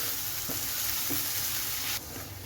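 Coriander powder and chicken masala frying in a pan for Kerala-style tinned tuna, a faint steady sizzle with a few soft stirring scrapes, the hiss dropping slightly near the end.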